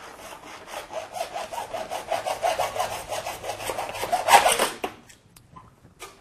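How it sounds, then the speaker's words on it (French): A hand saw cuts along a marked line on a plastic cable molding cover in quick, rhythmic back-and-forth strokes, close and steady, then stops and falls to near silence. "Voici le trait que va suivre la scie."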